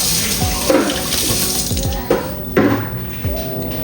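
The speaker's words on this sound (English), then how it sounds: "Just wet my hands with some water." Tap water runs steadily into a kitchen sink as hands are wet, with a few splashes and clatters breaking the continuous flow, heard close and alone in a home kitchen during sourdough stretch-and-fold work.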